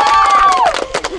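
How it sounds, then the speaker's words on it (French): An audience at the 2020 Chaapars d'or award ceremony cheers loudly, with a high sustained whoop gliding downward, followed by rough bursts of crowd noise and claps. "sous un tonnerre d'applaudissements"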